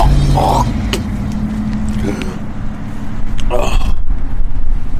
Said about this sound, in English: the Humvee drive is going well